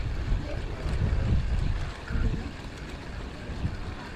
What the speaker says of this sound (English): Wind has been horrible today.